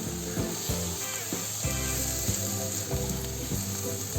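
Bottle gourd halwa with added milk powder sizzles as it is stir-fried in a pan after the milk has reduced. A continuous close frying crackle mixes with a rhythmic scrape of a spoon stirring, and no one speaks.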